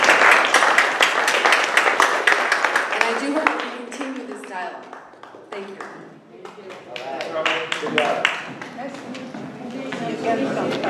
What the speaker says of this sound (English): So I want to applaud our speakers for coming. I want to applaud you all for coming as well.